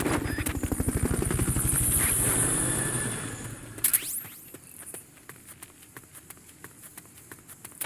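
Rotor thump of the Fulton recovery helicopter in the video game Metal Gear Solid Peace Walker, loud rhythmic chopping that cuts off after a sharp whoosh near four seconds, leaving quieter footstep-like taps.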